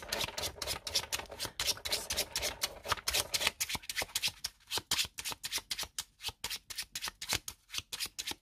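Tarot cards are shuffled by hand in quick rhythmic riffles and flicks, close and crisp, beginning as a dense flurry and then falling into a steady pulse of separate shuffles.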